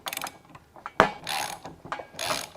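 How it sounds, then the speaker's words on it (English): A gear puller pushes an EV wheel hub out of its bearing with ratcheting clicks and metallic creaks up close, plus one sharp crack midway. The sounds are fairly quiet and come in short bursts. "hopefully using this gear puller setup"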